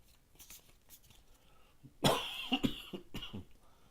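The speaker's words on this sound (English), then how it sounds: "Sorry for coughing." A single close cough bursts out midway, followed by a short trailing second cough, after quiet room noise.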